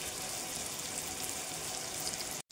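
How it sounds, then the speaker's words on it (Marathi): Stuffed bitter gourds frying in a pan give a steady, close sizzle that hisses without pause before a brief drop-out near the end, with no talking. "हे असे पलटून पलटून परतून घ्यायचे आणि शिजवून घ्यायचे."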